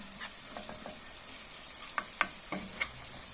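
A spoon stirs pepper paste into chopped onion in a hot pan, giving a soft sizzle with a few light scraping taps and clicks spread across a few seconds.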